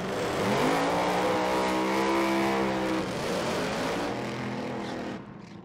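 A supercharged, alcohol-burning Top Alcohol Dragster engine at an NHRA Four-Wide Nationals drag race roars loudly and continuously, its pitch shifting as it revs before trailing off at the end.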